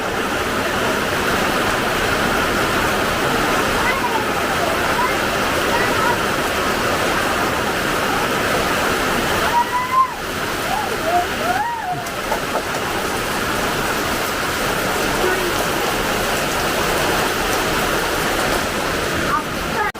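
Heavy rain pours down in a loud, continuous roar, with a brief whistling sound in the middle.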